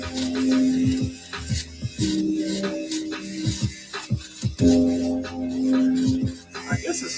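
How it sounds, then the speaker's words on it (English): A small electric fabric shaver buzzes over Nike Air Max 1 sneakers. Its motor hum starts and stops, with scratchy clicks as it passes close over the fabric. "So a little fabric shaver."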